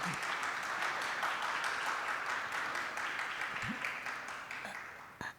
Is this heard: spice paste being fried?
no